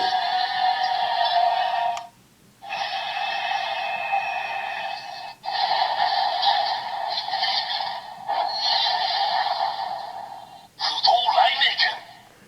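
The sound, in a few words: toy sword summoning sound effect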